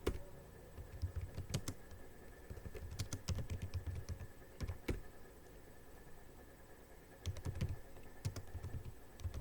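Computer keyboard being typed on in bursts of quick, soft key clicks with short pauses, close and quiet, with no talking.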